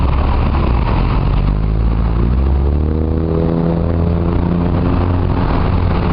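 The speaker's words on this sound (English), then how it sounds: "Let me just park my bike." A motorbike engine runs close and loud at a durian festival in Chanthaburi, Thailand, a steady low drone that shifts in pitch as the bike is maneuvered into a parking spot, with wind noise throughout.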